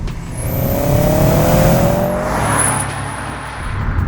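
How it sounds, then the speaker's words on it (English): A Subaru Impreza boxer engine revving hard as it accelerates, a loud rising drone with a throaty boxer burble, close and continuous. "It still sounds like a classic Impreza. That boxer burble."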